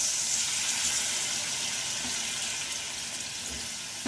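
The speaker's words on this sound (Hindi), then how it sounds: "जो इसका सब लगा हुआ था मसाला वो सब डाल के थोड़ा सा पानी डाल देंगे" Water splashes into a hot pan of chicken fajita masala, setting off a loud, steady sizzle with a hiss that lasts throughout and eases slightly toward the end.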